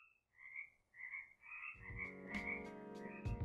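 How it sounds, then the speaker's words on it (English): Froggy from the video game Sonic Adventure croaks in a series of short, evenly spaced calls, alone at first, then continuing over a swelling game soundtrack. "Coming in at lucky number 5 is a fan favorite frog, Froggy from Sonic Adventure"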